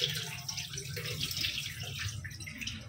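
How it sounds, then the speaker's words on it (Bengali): Water runs and splashes steadily as rice is rinsed in a kitchen, a continuous close trickling and sloshing with faint drips throughout. "এই যে আবারও জল দিয়ে ধুয়ে নেব ভালো করে।"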